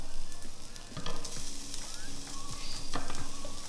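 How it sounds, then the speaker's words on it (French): Onions sauté in a hot pan for a Provençal salad, a loud, close, continuous sizzle broken by a few sharp stirring scrapes and pops. "Ensuite, faites revenir les oignons."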